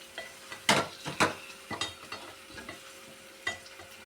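Pond fish curry (chepala iguru) simmers thickly in a pan while a spoon stirs it, several wet scraping strokes and light clinks over a faint bubbling sizzle, close and quiet, no speech.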